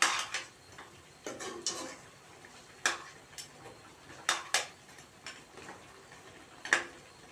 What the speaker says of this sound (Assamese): যেতিয়ালৈকে মাংসখিনি সম্পূৰ্ণ ড্ৰাই হৈ নাযায় তেতিয়ালৈকে ভাজি থাকিম